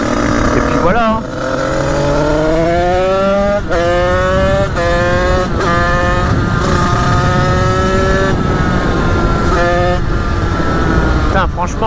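A Honda HM 86 motorcycle with an aluminium top end, set up for wheelies, revs hard: its engine pitch climbs repeatedly through several sharp rises and drops, loud and close.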